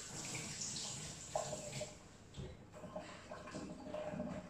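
Water runs from a kitchen tap as hands are washed with hot soapy water, a steady moderate splashing and rushing that shifts slightly as the hands move under the stream, with no talk over it.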